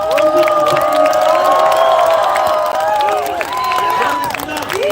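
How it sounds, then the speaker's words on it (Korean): Large crowd at an outdoor political rally at a Korean subway station, loudly and continuously applauding and cheering, with shouting voices and whistles layered over steady clapping throughout. "이재명 대표에게 다시 한번 큰박수니다"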